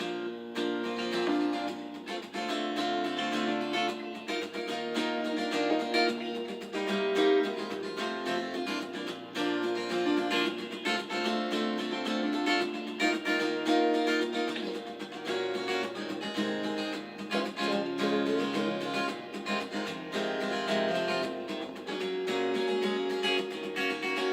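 Strummed acoustic guitar plays the continuous chord progression of a song, steady and full, with no voice over it.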